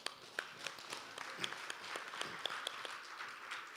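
Conference audience clapping by acclamation at an Africa-Cuba solidarity gathering, a dense, steady patter of many hands with a few sharper individual claps, heard somewhat distant and fairly quiet throughout.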